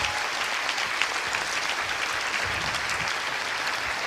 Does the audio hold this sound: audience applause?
yes